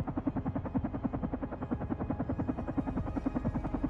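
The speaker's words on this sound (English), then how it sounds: "I just examined the helicopter after it presumably took us somewhere" Helicopter in the video game Carrion gives a steady, rapid rotor thumping that repeats evenly throughout, fairly loud and close with no talk over it.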